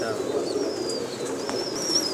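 Teddy breed pigeons coo softly and steadily inside a pigeon shop, their low murmuring calls continuous against a light background bustle.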